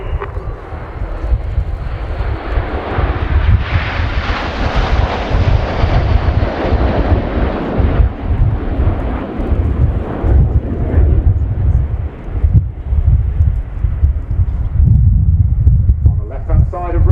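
Red Arrows jet aircraft fly past during a display at RIAT 2019, a loud continuous roaring jet rumble that swells and holds for well over ten seconds, with an announcer talking over it.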